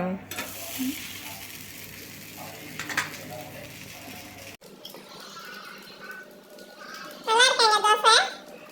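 A dosa sizzles on a hot pan with a steady frying hiss, a louder burst in the first half, then a quieter stretch topped by a brief high child's babble near the end.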